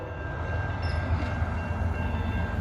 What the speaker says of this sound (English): 2 BNSF units leading the train